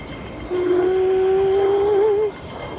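A packed MTR train at Tsuen Wan West Station gives off a steady, close tonal whine that holds for nearly two seconds over a low rumble, then cuts off.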